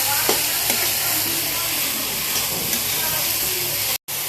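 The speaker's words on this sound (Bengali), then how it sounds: "এখন নেড়ে নিচ্ছি সবগুলোকে।" Spiced dried fish (shutki) with turmeric and onion is stirred in a pan, giving a steady broadband sizzle with light scraping strokes throughout, close and fairly loud, briefly cutting out near the end.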